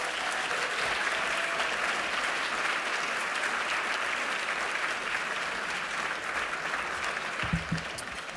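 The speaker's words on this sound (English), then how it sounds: "I know you were just clapping" A civic panel audience in Boston claps. The steady, moderately loud applause fills the room evenly, with a brief low bump near the end.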